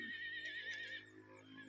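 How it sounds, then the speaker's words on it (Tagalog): A horse at Camp 1103 in Kablon, Tupi, South Cotabato gives a single clear, fairly close neigh with a wavering whinny that fades out. "Ito ay kabayo dito guys."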